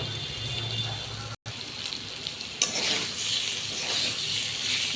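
Fried pointed gourd goes into a pan of spiced potatoes and is stirred: a soft steady sizzle with scraping, a brief gap, then a louder burst of frying hiss that carries on to the end.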